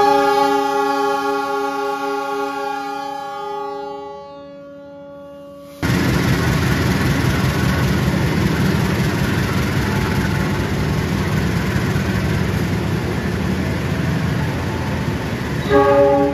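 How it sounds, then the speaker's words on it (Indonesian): The Lodaya passenger train's horn sounds a long, sustained blast departing Solo Balapan station, fades, then a heavy rumbling engine and rolling carriages take over, steady and close. "ini kereta api Lodaya diberangkatkan dari stasiun Solo Balapan"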